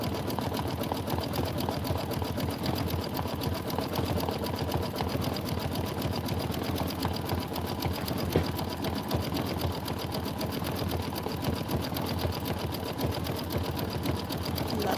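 An embroidery sewing machine stitches steadily, a fast even needle rhythm running continuously at moderate level with no pauses.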